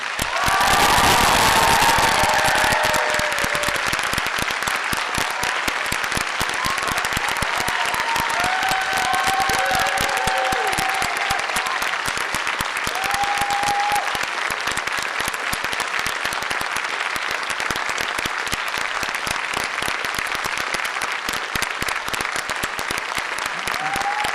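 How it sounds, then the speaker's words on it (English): Loud, sustained applause from a large crowd at a college graduation ceremony, with cheers and whoops rising over the steady clapping throughout. "please join me with your applause and cheers in congratulating the graduates of 2013"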